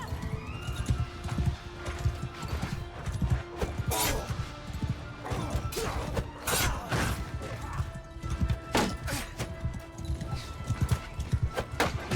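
Horses galloping in a Mount & Blade II: Bannerlord battle, a dense, continuous clatter of hooves mixed with clashing impacts and occasional whinnies, loud and sustained throughout.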